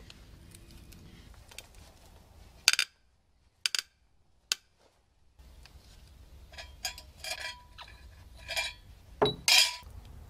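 Small metal washers from an old bench grinder clink and tap in a quiet workshop, scattered sharp metallic ticks with pauses between, some close and crisp, others fainter.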